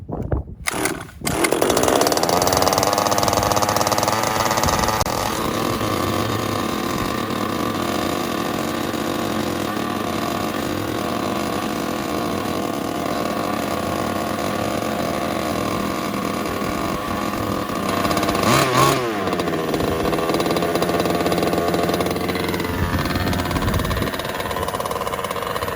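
A cold gas-powered RC rally car engine buzzes continuously after a few sputtering starts, loud and close with a high two-stroke whine that briefly swells near the end.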